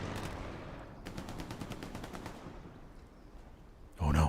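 A strafe run of gunfire in a console video game, with a rapid stream of sharp shots that rattles through the middle and then fades, followed by a sudden loud burst at the end.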